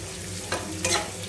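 Onions fry in a pan, a soft steady sizzle broken by two quick stirring scrapes, faint and close.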